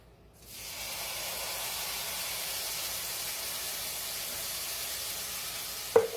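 Sofrito sizzling in hot oil in a pan while cooking pastelon, Puerto Rican lasagna, a steady close hiss that holds evenly throughout with a brief clatter near the end.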